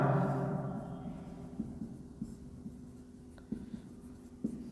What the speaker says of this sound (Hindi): तो लिखेंगे रोहन की वर्तमान आयु